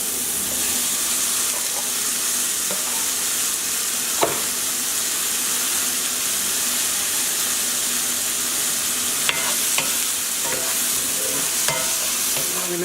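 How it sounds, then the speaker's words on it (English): Pearl onions with a pinch of salt cook in a pan for coq au vin, a loud constant frying hiss with occasional isolated clicks of a utensil, running on without any voices. "now we're going to add the pearl onions and a pinch of salt"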